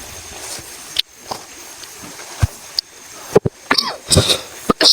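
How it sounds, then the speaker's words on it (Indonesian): A man on a mountain trail coughs in several short, sharp bursts with quiet gaps between them, close and fairly loud. "saya agak batuk"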